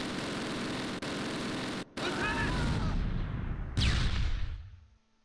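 Mortar fire in the Close Combat war game, dense rumbling explosions and blasts that fade out at the end, with a voice briefly under them.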